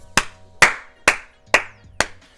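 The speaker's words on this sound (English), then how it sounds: "Golf claps, baby." Five slow, evenly spaced hand claps, sharp and close with brief decay, given as a mock golf-style applause with no talking.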